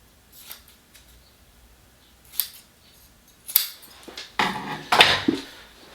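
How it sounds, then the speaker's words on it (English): Scissors snip the frayed ends of cord for a samurai armor skirt (kusazuri), a few sharp isolated cuts at first, then a quicker cluster of louder snips and handling clicks near the end, close and with no voices. "Then I'm gonna take my scissors, snip off just the edges, and then cut this"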